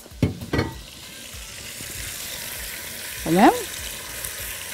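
Liver, squeezed with lemon, is dropped into a hot pan and sizzles steadily for a few seconds, with short clattering stirs near the start and a brief spoken word partway through.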